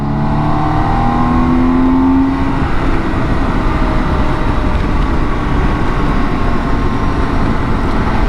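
BMW K1600 GTL six-cylinder touring motorcycle engine while riding, a loud, steady close-up drone with rising tones early on and constant road and wind rush throughout.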